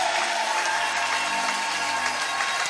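A church congregation applauds and cheers in praise of the Holy Spirit, a dense, steady wash of clapping from many hands filling the room at fairly loud level throughout.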